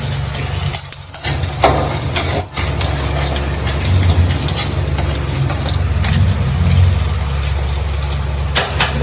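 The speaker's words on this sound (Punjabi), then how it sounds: "ਤੇਲ ਆਪਣਾ ਗਰਮ ਹੋ ਗਿਆ ਹੁਣ ਆਪਾਂ ਪਾਤਾ ਜੀਰਾ" Cumin seeds fry in hot oil in a pan, a loud, dense and continuous crackling sizzle close up, with a few brief dips and scrapes partway through and no talking.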